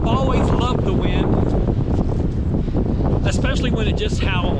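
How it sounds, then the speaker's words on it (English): Strong wind buffets the microphone on a windy North Dakota day, a loud continuous rushing roar while a person talks over it. "this is a windy day here in North Dakota"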